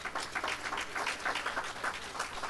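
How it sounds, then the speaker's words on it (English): A church congregation at a Thursday evening service claps their hands together, a steady, moderately loud rhythmic patter of many hands with no talk. "Give him a hand clap"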